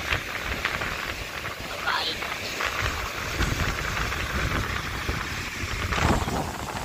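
Steady rain falls over a coastal area as darkness sets in, a dense continuous hiss with faint gusty rumbles throughout, fairly soft and even, with no clear voices over it.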